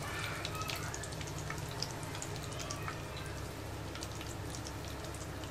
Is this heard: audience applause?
no